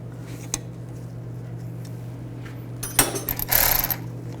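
Faint metallic clicks and a short rattling burst of a wrench loosening the brake caliper slide bolts on a 2003–2012 Honda Accord, set against a steady low hum.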